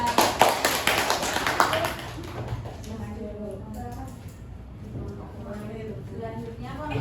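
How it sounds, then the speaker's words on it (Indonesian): A classroom group gives a short burst of hand clapping for group 2, several quick close claps over about two seconds, then it fades and voices talk afterward. "Tepuk tangan untuk kelompok 2."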